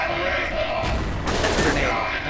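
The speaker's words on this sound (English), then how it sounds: "That's a grenade." A grenade blast in a video game, a dense loud burst of broadband noise with crackling debris under continuous gunfire-like noise, briefly swelling around the middle of the short stretch.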